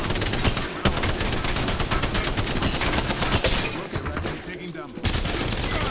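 Rapid automatic gunfire in Apex Legends, a dense, loud, sustained volley of shots with brief pauses and a few sharp cracks, with game sounds layered over it.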